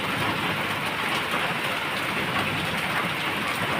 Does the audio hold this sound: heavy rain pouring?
yes